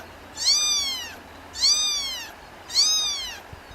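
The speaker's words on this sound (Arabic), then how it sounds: "القطة دي اتزنقت زنقة وحشة قوي" Three loud, drawn-out meows from a trapped cat, evenly spaced about a second apart, close by, with faint background noise between them.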